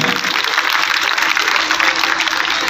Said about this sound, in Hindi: इनके लिए जोरदार ताली बजाकर इनको आशीर्वाद प्रदान करें